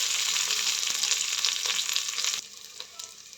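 Onions fry steadily in hot oil for bagara rice cooked in a rice cooker, a dense continuous sizzle up close that drops to a quieter hiss near the end.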